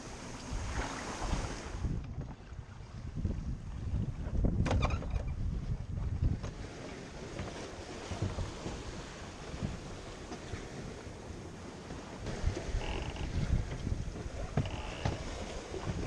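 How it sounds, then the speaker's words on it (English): A sailboat runs downwind across the open ocean, steered by a wind vane in a good breeze. Water rushes and splashes steadily along the hull, mixed with blustery wind noise, with no voices. "We enjoyed a beautiful downwind sail, cruising along with just the perfect amount of wind"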